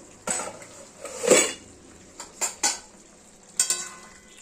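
Ridge gourd and potatoes cooking in a pan get stirred with a spoon, producing a few scattered scrapes and light metallic clinks over a faint background, quiet and close with no talking.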